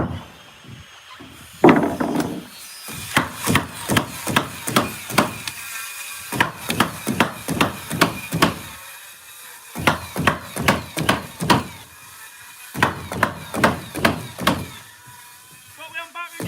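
Hammer blows on timber during garden room construction, a long series of sharp, close, regular strikes in bursts with short pauses between, and people talking briefly.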